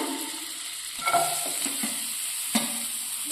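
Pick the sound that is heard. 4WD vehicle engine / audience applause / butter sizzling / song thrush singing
butter sizzling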